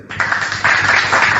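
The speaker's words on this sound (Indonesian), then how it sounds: "Tepuk tangan dulu biar semangat." An audience claps hands together in a short, dense burst at a lively religious talk, steady and close throughout with a slight swell partway through.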